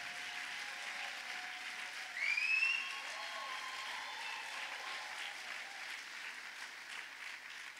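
A church congregation applauding for God during a multilingual worship service, steady broadband clapping at moderate distance throughout, briefly swelling louder midway, with faint tonal sounds above.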